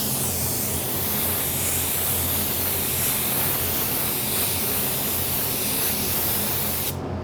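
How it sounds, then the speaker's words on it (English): Spray gun spraying Createx AutoBorne sealer coat in a paint booth: a steady, loud, continuous hiss of atomized spray holding for several seconds before stopping abruptly, with no talking. "we are ready to spray our first coat of our sealer"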